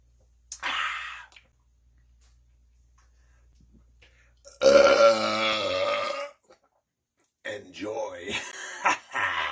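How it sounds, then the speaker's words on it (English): Three big, loud, drawn-out burps and belches come one after another with silent gaps between them, each close and raspy, the middle one longest and deepest. "Here are the Freaks Top 20 Best Burps of all time."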